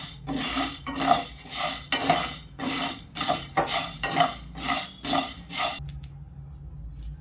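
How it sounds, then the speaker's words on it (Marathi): Sabudana (sago pearls) dry-roasts in a pan over a very low flame, stirred with a steady run of rhythmic scraping strokes, about one per half-second, close and fairly loud, before the stirring stops and only a faint hum is left. "आता आपण या साबुदाणा अगदी मंद आचेवर खमंग भाजून घेऊया"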